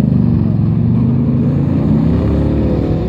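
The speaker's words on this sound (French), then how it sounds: "réplique AC Cobra, restauration complète avec son moteur V8 289 qui développe 400 chevaux" A deep, rumbling 400-horsepower 289 V8 in a 1979 Pilgrim Sumo AC Cobra replica idles steadily and loudly throughout, its low throbbing pulses constant with no talking.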